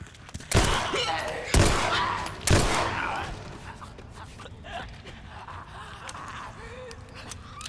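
Three loud gunshots ring out about a second apart in The Last of Us, each followed by a fading echo, then quieter game ambience.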